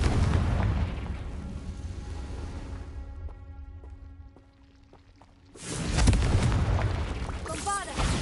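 A Bombarda spell exploding in a Harry Potter video game: a loud booming blast opens, fades into a ringing decay, then a second heavy burst erupts near the end with crackling debris.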